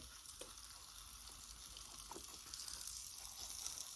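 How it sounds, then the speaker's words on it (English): Steady hissing sizzle of waffle pizza batter cooking in a waffle iron, continuous and close, with faint clicks and no talking. "hear that sizzle"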